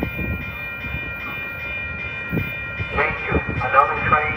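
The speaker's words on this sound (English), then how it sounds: "Danger, another train coming." A Metra commuter train passes through Elmhurst station with a heavy rolling rumble and rising metallic tones, while a voice announcement sounds over the noise.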